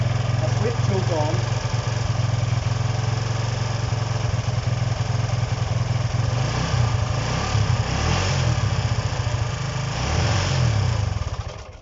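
A Honda CB125 RS motorcycle engine runs loud and close after starting, a steady low idle putter that grows rougher and uneven before cutting out at the end.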